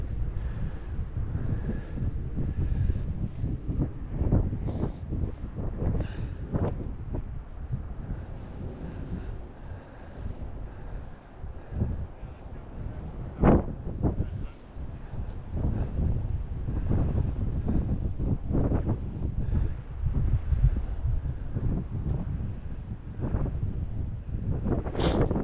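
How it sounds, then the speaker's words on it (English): Strong wind buffets the microphone on an open heath at a golf course during an e-bike ride, a continuous loud rumbling roar with gusty surges and brief sharp thumps, with no talking. "it's a bit windy up here, isn't it?"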